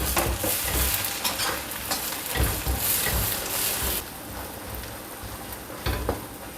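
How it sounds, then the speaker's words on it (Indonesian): Galangal, kaffir lime leaves and Indonesian bay leaves stir-fry in hot oil with a steady, loud sizzle. Scraping stirs recur throughout, close and without talk. "Ditumis sekalian."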